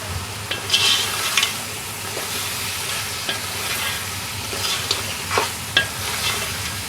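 Fried meat stirred with spices in a pan for Afghani karahi, a close steady sizzle with distinct scraping stir strokes and occasional sharp spatters, no talking.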